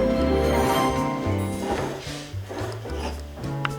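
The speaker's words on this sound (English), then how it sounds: "I've added the butter and the parmesan to the risotto and now I'm whisking it to aerate it." Butter and parmesan are whisked into risotto in a pot, giving a continuous close scraping and rubbing sound with a few soft knocks, heard on its own without talk.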